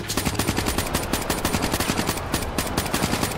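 Rapid automatic gunfire from the video game Black Ops 3, set in a World War 2 scenario, rattling steadily and loud in a continuous burst across the whole stretch.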